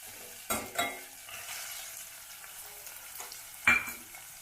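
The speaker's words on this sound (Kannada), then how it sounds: "ಈರುಳ್ಳಿ ಚೆನ್ನಾಗಿ ಫ್ರೈ ಆಗಲಿ" Onions frying in oil in a pan for North Karnataka horse gram palya, with a steady soft sizzle broken by a few louder stirring scrapes and clinks of a utensil against the pan. Nobody speaks.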